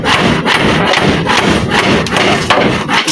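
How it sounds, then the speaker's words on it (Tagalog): A hand saw cuts through wood while a table is being built, giving a loud, steady back-and-forth rasp of repeated strokes that continues without pause across the whole stretch. "Sarap yung bagong lagari."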